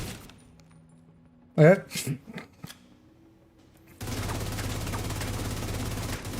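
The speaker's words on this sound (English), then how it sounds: "Unload the mag and then I like look away and automatically hit reload" Rapid video game gunfire as a magazine is emptied, a dense steady rattle of shots running continuously for the last couple of seconds after a brief burst of clatter and a spoken word.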